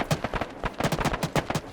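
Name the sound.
gunfire in video game Arma 3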